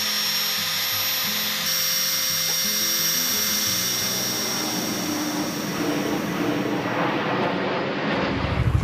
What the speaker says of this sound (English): I've just got to grind the remaining part of it away